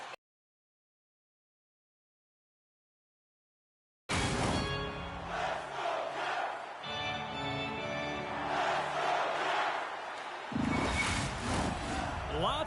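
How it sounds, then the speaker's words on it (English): A broad, steady crowd roar fills a hockey arena during a Carolina Hurricanes vs. Washington Capitals playoff game in NHL 25, starting abruptly after a few seconds of silence, with a commentator talking over it. "You can feel the energy in this crowd."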